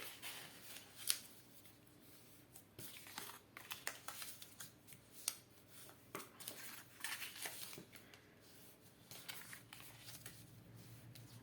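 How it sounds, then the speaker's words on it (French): Paper and cardboard being folded and creased by hand while making a small train table decoration, with irregular crisp crackles, rustles and sharp snaps close by, fairly faint overall. "on va tout plier"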